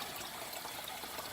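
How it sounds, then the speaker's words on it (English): Water rushing at full pressure from a hot water heater valve, a steady, dense hiss of flowing water, close and unbroken, with no talk. "So that's full pressure coming out of the hot water heater right now"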